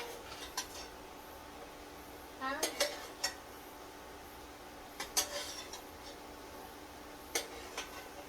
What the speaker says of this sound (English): Now I'm using a slotted spoon to keep the juice in